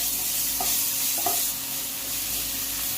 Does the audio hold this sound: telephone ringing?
no